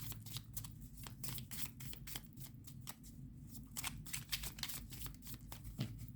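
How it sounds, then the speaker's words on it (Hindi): Tarot cards being shuffled by hand close up, a continuous run of quick, crisp riffling flutters repeating in steady bursts, quiet and alone. "जब मैं कार्ड शफल कर रही हूँ"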